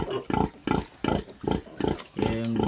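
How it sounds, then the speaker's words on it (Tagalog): A nursing mother pig grunts in a steady rhythm of about seven short, loud, close-up grunts, each evenly spaced, ending in a longer, more drawn-out grunt while her piglets feed. "Yung tunog po ni Mama Pig na ganyan"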